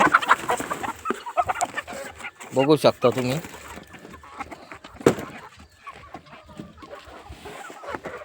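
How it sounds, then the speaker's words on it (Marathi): Native country-breed chickens cluck and chatter close by while someone talks over them, with a sharp rustle or knock partway through. "एकदम पक्षी ॲक्टिव आणि गावरान पक्षी"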